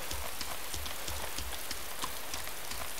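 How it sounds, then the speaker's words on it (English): Steady rain in the survival video game DayZ, a dense constant patter of drops with soft thuds, close and even throughout with no talking. "I can hear rain, but I can still see the moon"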